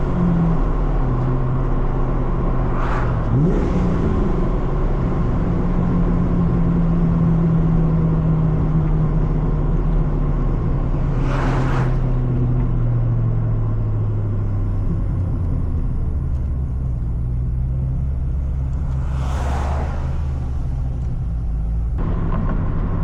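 Wind rushes through the open windows of a moving Ford Mustang, mixed with steady road rumble and a low engine drone, with a few short gusts and bumps and a slowly shifting engine tone.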